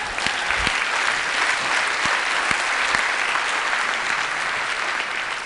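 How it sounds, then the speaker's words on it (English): A crowd applauds steadily, dense clapping filling the whole stretch without a break. "Give Joe a round of applause"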